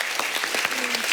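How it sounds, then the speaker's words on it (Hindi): A crowd claps loudly and steadily, a dense burst of applause with scattered individual claps standing out. "तो इन दोनों के लिए जोरदार तालियां"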